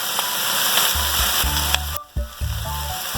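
Carrots and mixed vegetables fry in a pan with a steady, close sizzle that has some stirring noises, a brief dip near the end, and then a return to a crackling fry.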